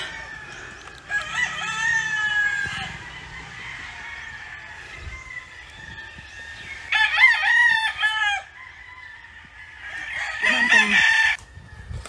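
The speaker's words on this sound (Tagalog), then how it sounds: "Umagang-umaga mga manok, gising sa manok. Nagigising ka dahil sa tiktok tilaok." Roosters crow three times in the morning, one long call after another with quiet gaps between, clear and fairly close, with faint clucking in the background.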